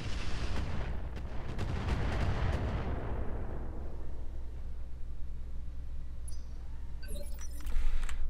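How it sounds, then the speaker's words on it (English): Rapid bursts of automatic fire from an anti-missile system in the mech game Roguetech, a dense loud crackling barrage over the first few seconds that thins into rumbling battle noise, with sharper impacts near the end. "Oh, the AMS is shooting it down"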